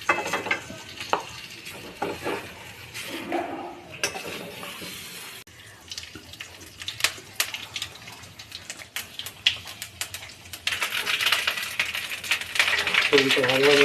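Potatoes fried and stirred in a pan give a close, steady sizzle broken by scraping clatters and clinks of a spatula against the pan, with the frying getting louder toward the end.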